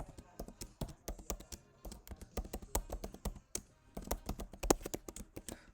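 A long password being typed on a computer keyboard while setting up a Microsoft Azure cloud virtual machine: rapid, irregular key taps close up, with some louder clacks and brief pauses between bursts.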